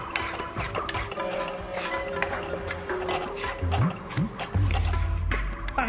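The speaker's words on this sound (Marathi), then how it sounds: "याला कमी गॅसवर लालसर होईपर्यंत भाजायचं आहे" Flour roasting in ghee in a pan over low gas, with a spatula scraping and clinking against the pan in busy, uneven strokes, fairly close.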